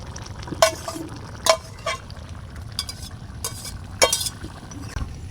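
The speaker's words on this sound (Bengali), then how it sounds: "ঝোল দেওয়ার পরে বলক উঠে গেছে, এখন আমি একটু নাড়াচাড়া দিয়ে মাছগুলো এর ভিতর দিয়ে দেব।" Fish curry broth at a boil in a pot, stirred with a metal utensil: several distinct clinking, scraping strokes against the pot over a low bubbling bed, close and fairly loud, without speech.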